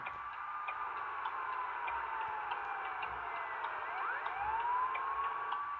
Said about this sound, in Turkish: Ambulansın önüne geçmezsin Becem.